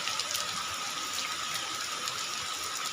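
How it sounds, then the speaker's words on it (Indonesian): Rain falling steadily outdoors: a constant, even hiss of water with no breaks or changes, close and moderately loud for the whole stretch. "Hujannya sudah turun lagi sedulur"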